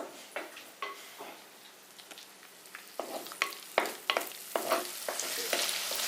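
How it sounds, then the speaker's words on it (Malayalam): Curry leaves, ginger and garlic frying in oil for a Kerala-style chicken roast, stirred with repeated light scrapes and clicks over a low sizzle that grows busier toward the end, close by and without voices. "ഇനിയിപ്പോ ഇത് നന്നായിട്ടൊന്ന് ഇളക്കി എടുക്കണം"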